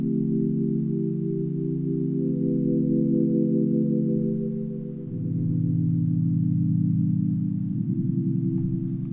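Spaced-out synth pad chords for a slow, smooth R&B beat built in FL Studio, sustained low harmonic layers swelling and shifting chord every few seconds, heard alone with no talking.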